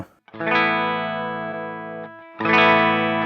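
A guitar amp tone, captured with a Neural DSP NanoCortex, rings out as two sustained, bright chords, the first held for over a second and a half before a second strum, loud and close with no talking.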